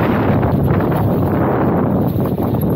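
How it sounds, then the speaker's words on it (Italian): Strong wind blowing across an open outdoor training field, a steady buffeting rush on the microphone that runs throughout. "questo vento qui si può dire ci ha asciugato il terreno"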